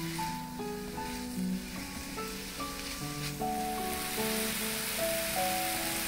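Minced chicken sautéing in a pan gives a steady, moderate sizzle, partly masked by melodic background music, with no voices.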